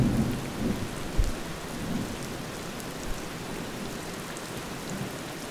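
Rain and thunder in Kerala's Idukki hills: a steady hiss of heavy rain falls throughout, with a low distant thunder rumble early on and a dull thump near the start. No voices are heard.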